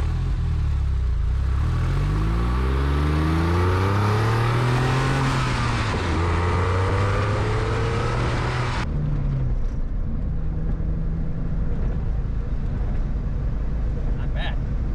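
An eBay-bought Porsche 911, warmed up on the road, accelerates through the gears with rising and falling engine pitch, loud and close from inside the car, settling into a steady drone while someone talks.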